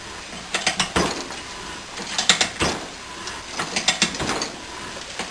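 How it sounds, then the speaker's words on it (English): A ratchet handle is worked in reverse on a pipe thread cutter, producing bursts of sharp metallic clicks and pawl rattles in uneven clusters with brief pauses between strokes, close and fairly loud. "I'm reversing the ratchet."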